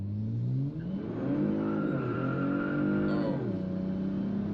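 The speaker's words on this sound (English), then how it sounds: "try with the traction control off in standard drive" A 2019 Kia Stinger accelerates hard in standard drive mode with traction control switched off. Its engine revs climb, drop briefly at two gear shifts, then climb again, loud and close with no talking.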